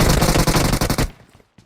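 Rapid automatic gunfire in PUBG Mobile, a dense rattling burst of close, loud shots lasting about a second before cutting off to near silence.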